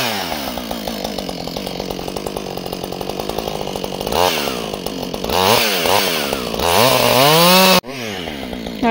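Chainsaw cutting a big tree in snow, loud and close, idling in a steady putter before revving hard into the cut with rising and falling engine whine, then cutting off abruptly near the end.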